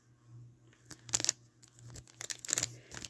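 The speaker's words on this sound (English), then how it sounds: "Opening packs with nails," Fingernails tearing open the foil wrapper of a Pokemon card pack, a few short crinkly rips in quick bursts close to the microphone over a low steady hum, with no talking.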